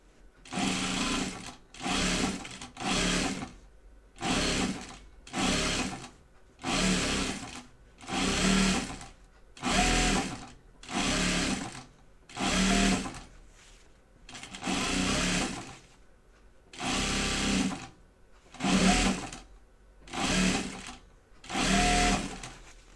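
A sewing machine stitching a fabric floor pouf runs in repeated bursts of rapid mechanical whirring, each lasting about a second with short pauses between, steady and close with no voices.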